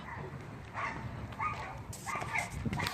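A dog barks and yips a few times at a moderate distance outdoors near a Honda S2000 sports car, in short separated bursts.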